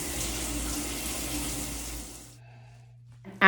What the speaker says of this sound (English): and then I'll finish my shower.